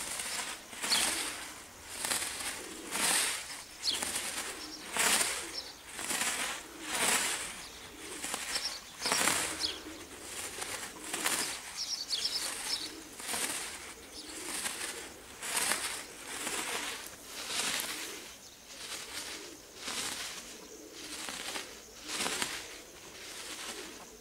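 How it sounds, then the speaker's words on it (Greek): Pigeons in a loft at Veria flap their wings in repeated bursts and coo now and then, a steady rhythm of whooshing flutters rising and falling through the whole stretch, close by and fairly faint. "Όπου και να δείξουμε θα δούμε τα ωραία του περιστέρια"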